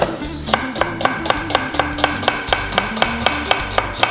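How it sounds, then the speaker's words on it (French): Onions chopped with a knife on a board in a steady, fast rhythm of close, sharp taps, about four per second, with a low hum beneath. "Nous allons hacher les oignons."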